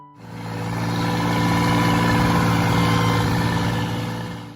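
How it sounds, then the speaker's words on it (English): A John Deere 750 tractor with a 3-cylinder Yanmar diesel engine runs steadily close by, a continuous even rumble that swells in and holds, with no one speaking over it. "That gentle diesel chatter is the sound of efficiency and endurance."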